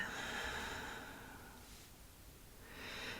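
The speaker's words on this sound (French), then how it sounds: "Inspire, fais le plein. Expire jusqu'au vide." A slow, deep breath drawn in and let out during a quiet guided meditation, soft and close, with the airy exhale tapering off before another breath begins.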